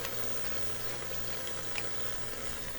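Homemade garden-tomato pizza sauce bubbles steadily in a pot, a faint, continuous simmering hiss with soft pops and no voices.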